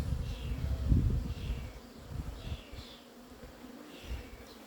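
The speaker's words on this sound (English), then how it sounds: "These bees seem to be orientating." Honeybees around a beekeeper buzz in a steady, low drone around the listener, rising and falling as they fly close on orientation flights, with no voices.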